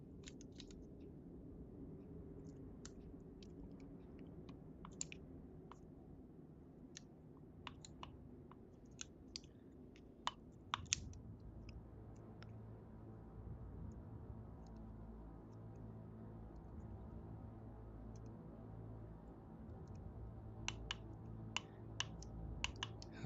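Sharp, irregular clicks tick from an iPod during a personal upgrade, scattered in short bursts over a steady low hum, some louder snaps standing out.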